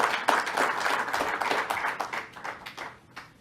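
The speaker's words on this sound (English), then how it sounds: "Let's give Dr. Mantosh Dewan another round of applause for what he has done here." Audience applause at a briefing event, a round of brisk clapping that starts strong and gradually thins out into a few scattered claps.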